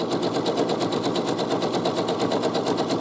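A sewing machine runs at a fast, even pace stitching a zigzag side seam, a loud, close, rapid mechanical chatter of needle strokes with a steady motor whir and no pauses.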